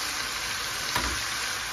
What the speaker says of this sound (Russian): Мясо уже подрумянивается, лучок подрумянивается.